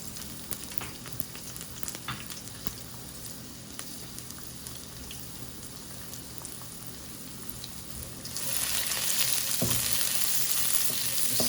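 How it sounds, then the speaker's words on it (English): Garlic, peppers and scallions stir-frying in a pan for Mongolian beef, a steady close sizzle with scraping stirs that swells into a louder, brighter hiss near the end. "Just saute that up."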